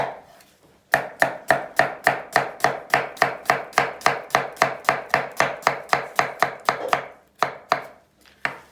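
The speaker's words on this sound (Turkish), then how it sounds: "Soğanları çok ince doğramayacağız." Rapid, evenly spaced knife chops through onion hit a board up close, a long steady run of crisp strikes that slows into a few final cuts. No voices.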